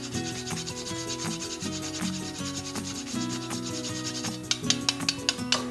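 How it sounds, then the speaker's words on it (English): A spoon scrapes and rubs steadily as spices and leavening agents are stirred together in a bowl, with rhythmic strokes under background music and sharper taps at the end. "Stir all of these beautiful spices and leavening agents together."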